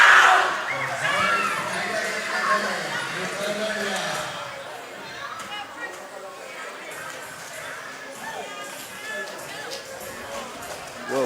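A loud, dense crowd roars and chatters at a weightlifting competition, a continuous wash of cheering and voices that fills the space from start to finish.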